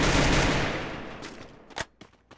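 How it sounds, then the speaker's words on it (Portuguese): Gunfire aimed at a drone in the video game Free Fire: a loud dense burst of rapid shots that fades over about a second and a half, followed by a few sharp separate shots, with no talking. "porque eu dei uns tiros"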